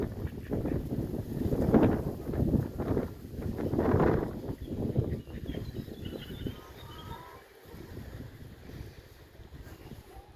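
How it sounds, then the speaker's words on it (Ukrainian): Gusty wind by a pond buffets the microphone in heavy, uneven rumbles, strongest early on and easing later, with water faintly audible beneath. "Вітер сьогодні."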